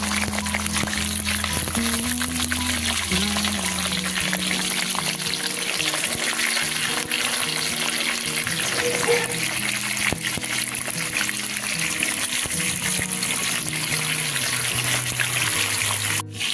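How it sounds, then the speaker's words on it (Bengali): Pointed gourd (potol) frying in hot oil for a vegetarian meal crackles and spatters in a steady close sizzle, with scattered louder pops and some stirring, and no talking. "কেমন ফাটছে, মুখটা না ছেড়ে দিলে না আরও বেশি ফাটছে"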